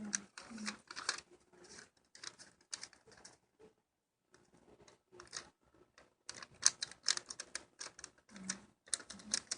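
Sheets of paper being creased and folded by hand while shaping an origami scorpion, giving soft crinkles and sharp creasing rustles in irregular bursts with brief pauses, close and fairly quiet.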